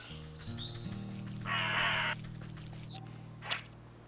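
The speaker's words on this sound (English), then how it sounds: "A crow." A crow caws in the video game Wytchwood, short cries over quiet background music.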